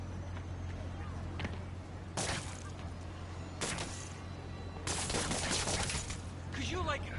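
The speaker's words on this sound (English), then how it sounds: "shoot a weapon." Bursts of gunfire in a Spider-Man video game, several loud broadband volleys spread over the clip above a steady low hum, with faint game voices in the background.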